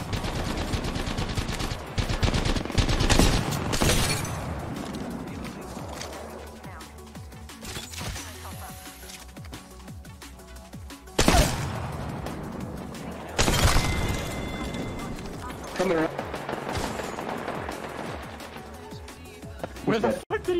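Sharp bursts of gunfire crack out in a shooter game, Apex Legends style, with clusters of loud shots and rapid automatic fire around in-game effects, while a player talks over the action.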